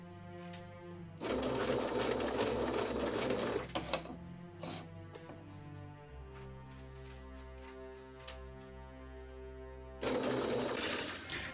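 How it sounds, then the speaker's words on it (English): A sewing machine runs in bursts stitching two neck ties together along the presser foot edge for a pillow, a loud steady whir that stops and restarts with short pauses and clicks between runs. "then we're just gonna sew down"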